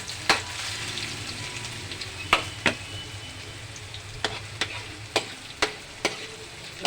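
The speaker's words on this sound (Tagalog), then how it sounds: "Igisa na po natin ang ating bawang" Garlic and ginger sauté in hot oil in a pan, giving a steady low sizzle broken by sharp clacks of a utensil scraping and stirring every second or so, close and alone with no talk.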